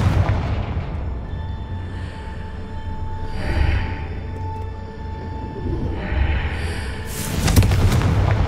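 Blasting spell explosions from the Confringo curse in Hogwarts Legacy, booming over a dense rumbling game soundtrack with several bursts and a heavier crackling blast near the end.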